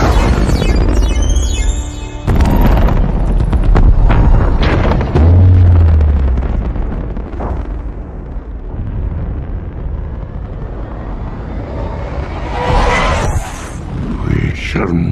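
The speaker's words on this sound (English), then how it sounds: "I'm setting off lockdown's grenade." A grenade blast in a Transformers movie battle scene, a loud booming explosion with a rumbling low tail, mixed with dialogue and dense action effects.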